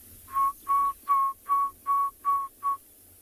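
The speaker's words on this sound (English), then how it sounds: "He's got a very distinctive single note whistle." Seven clear single-note whistle calls from an ashy tit in the Tswalu Kalahari reserve, each a sustained pure tone repeated at a steady, even rhythm, loud and close against a quiet background.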